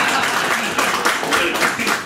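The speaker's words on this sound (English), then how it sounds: "I think you need to clap." An audience claps at a website launch event in Darjeeling: dense, steady applause lasting a couple of seconds, fairly loud and close, with some voices blended into the noise.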